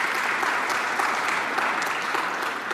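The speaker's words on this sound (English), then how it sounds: "round of applause," A full room applauds at a labour minister's speech on the care economy, with dense, loud, even clapping from a sold-out audience that holds steady throughout with no talk.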